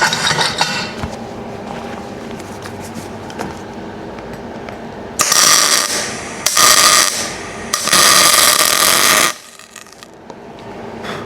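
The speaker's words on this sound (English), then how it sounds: "I'm going to turn that the other way rather than welding upside down." A homemade steel car rotisserie being turned over in a workshop, with grinding, rubbing metal scrapes in three sustained bursts of several seconds each after quieter clanks and handling noises.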